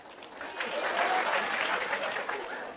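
Students applaud in a university lecture hall, a broad wash of many hands clapping that swells and holds steadily at moderate distance, with faint chatter underneath.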